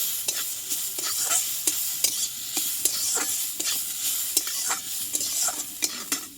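Raw potatoes stirred and frying in a pan, a steady close sizzle broken by regular scraping strokes of the spatula, with no voices.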